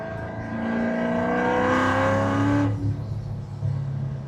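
A supercharged Corvette C7 downshifts and pulls hard in a rolling acceleration, its engine note climbing loudly and steadily before dropping back to a lower drone as the throttle eases.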